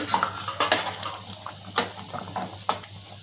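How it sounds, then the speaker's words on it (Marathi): Fried potatoes tipped into a dhaba-style dum aloo curry and stirred in a pan, with scattered spoon scrapes and metallic clinks against the pan over a low background hum. "आता ह्याच्यामध्ये आपण जी बटाटे आपण फ्राय करून घेतलेली आहे ती टाकून घ्यायची"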